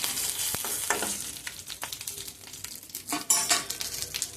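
Spices tempering in hot oil for a homemade bottle gourd chutney, crackling and sizzling close up with scattered sharp pops and a few clinks of a spoon against the pan.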